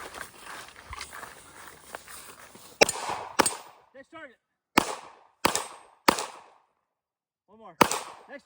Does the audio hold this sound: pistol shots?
yes